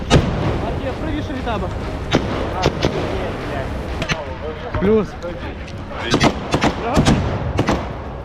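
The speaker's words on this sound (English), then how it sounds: "As artillery fire echoed in the background and small arms fire intensified" Artillery and small-arms fire from a combat clash at a Ukrainian trench: irregular sharp cracks and heavier booms, some in quick bursts, loud and echoing, with a voice talking over them.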